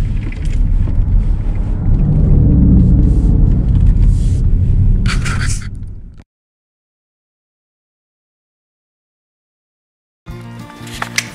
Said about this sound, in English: Ooh, there's a truck coming down here.